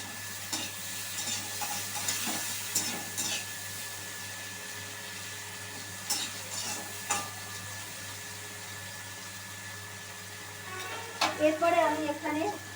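Onion and chopped tomato fry in a pan for fish biryani, a low steady sizzle broken by repeated scraping stirs, with louder clattering bursts of stirring toward the end.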